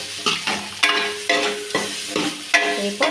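A spoon scrapes and stirs through a thick spinach poori mixture with chilli powder in a pan, several repeated strokes with a faint sizzle underneath, close and fairly loud.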